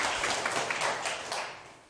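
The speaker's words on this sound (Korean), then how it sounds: "박수 한번." Brief applause from a seated audience at a lecture, a moderate patter of clapping hands that fades away within a couple of seconds.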